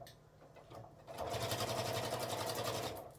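A sewing machine runs a steady stitch across a 12 by 9 inch tablet sleeve, corner to corner, starting after a quiet moment and then holding a loud, even mechanical whir.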